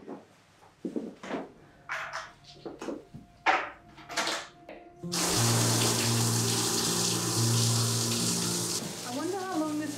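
A large bathtub in a hotel four-poster suite fills from the tap. A few seconds of scattered voice and handling noises give way to a loud, steady gush of running water that continues to the end.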